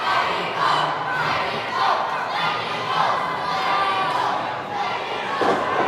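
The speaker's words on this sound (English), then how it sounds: "you hear a Mexico chant erupting from the crowd" A wrestling crowd chants "Mexico" in loud, rhythmic bursts, a dense wall of voices filling the arena without pause.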